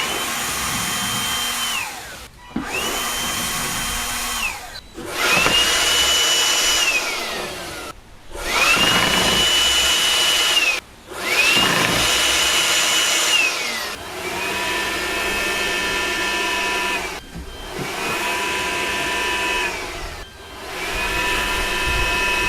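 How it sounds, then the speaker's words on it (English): A Milwaukee M12 cordless blower, nozzle pressed against a wood block on a timber floor, whines loudly in repeated steady bursts separated by brief pauses, with a sharp rising pitch at each start. "I'm going to put the nozzle hard up against a bit of wood, pull the trigger, and see how far it can blow them along this timber floor."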